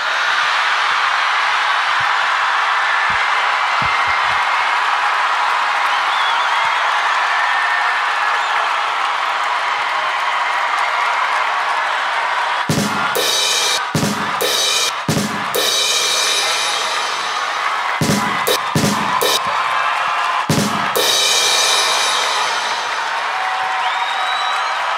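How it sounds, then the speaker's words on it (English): A live audience at a comedy podcast show in Chicago rises to its feet and applauds. The dense, sustained clapping rolls on throughout, with sharper bursts and thumps toward the end. "Hey, why are you all clapping"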